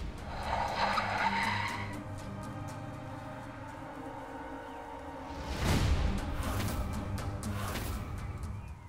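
A car skidding to a stop, tires squealing in a long screech that swells near the middle and fades out, with engine noise and background music underneath.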